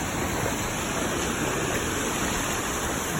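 Floodwater laps and washes in small waves along a flooded Miami street, a continuous, fairly loud rushing wash that holds steady for a few seconds with no voices.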